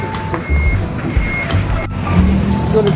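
Truck reversing alarm beeping in steady, evenly spaced tones amid street traffic and engine rumble, with voices chattering nearby outside a restaurant.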